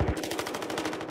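Rapid automatic gunfire rattles in a Battlefield shooter game, a tight, close burst of evenly spaced shots filling the whole second without pause.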